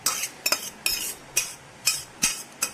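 Cooked green gram being stirred into masala in a pan, a series of about eight sharp scraping spoon strokes at an irregular rhythm with faint sizzle between, close and with no talk.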